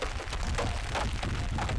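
Heavy rain mixed with golf-ball-sized hail pounds down steadily and loudly during a tornado storm in Windsor, Colorado, a dense continuous roar of impacts with no voices.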